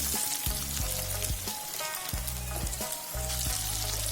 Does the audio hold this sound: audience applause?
no